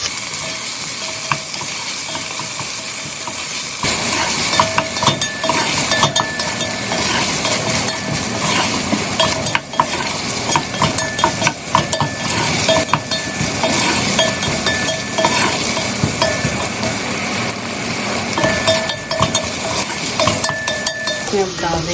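Okra curry sizzles loudly on a high flame, a continuous close frying hiss with stirring and occasional clinks of a utensil against the pot; no talking.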